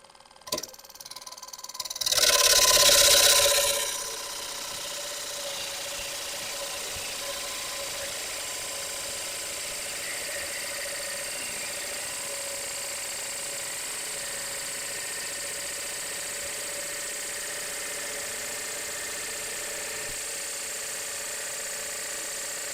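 A wood lathe spins a bowl blank at about 1100 RPM. After a brief louder burst of noise it settles into a steady, even motor hum and whir that carries on unchanged.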